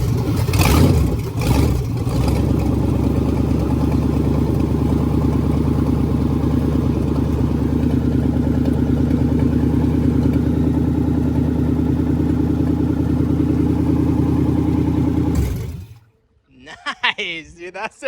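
A 460 big-block V8 swapped into a Ford LTD fires up after a brief cranking stutter and settles into a loud, steady, lumpy idle close by, then cuts off abruptly near the end.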